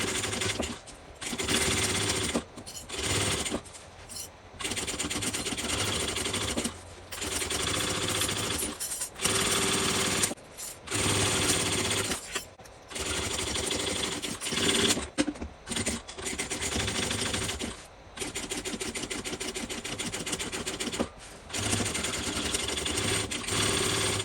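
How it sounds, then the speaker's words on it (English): Sewing machine stitching two rows on a tote bag, loud rapid mechanical whirring in repeated bursts of a few seconds each, separated by brief pauses, close and alone without talk. "I'm going to sew this on, and I'm going to use 2 rows of stitching"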